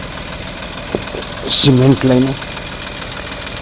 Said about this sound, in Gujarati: પોતે ટ્રેક્ટર લઈને આવ્યા છે